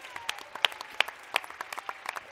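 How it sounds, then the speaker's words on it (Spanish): Scattered clapping from a small audience at a university library anniversary celebration, irregular sharp claps at moderate distance, fairly sparse rather than a thunderous ovation. "Por favor, otro aplauso para ellos."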